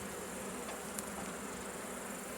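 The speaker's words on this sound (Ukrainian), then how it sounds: "Тут повна пастка бджіл, якщо вам видно." Honey bees buzz steadily around an open beehive frame full of brood, a dense continuous close drone without pauses or voices.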